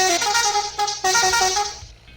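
A vehicle horn blares loudly and close by, sounding in a few sustained honks with short breaks before fading away.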